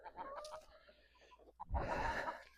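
Hens cluck faintly in a village yard while soil is dug for them, soft scattered clucks close by with a louder rustle of movement near the end.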